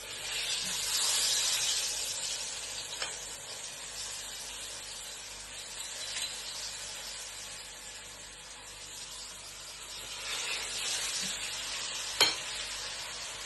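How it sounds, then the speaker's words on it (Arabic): Iraqi falafel frying in hot oil gives a steady, bright sizzle and hiss that runs unbroken throughout. It swells a little near the start and again near the end, and a few faint clinks sit under it. No one speaks. "بعد ما خلصنا قلي الفلافل"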